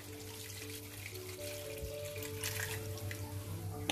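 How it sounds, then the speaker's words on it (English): Water poured into a pan of crab curry, a steady trickle and splash running for about four seconds, close by and moderately quiet, with a low background hum beneath it. "We will add some more water."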